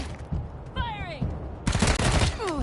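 Characters in Wasteland 3 open fire in a short burst of gunshots, rapid cracking volleys in the second half after a quieter stretch, with a voice heard alongside.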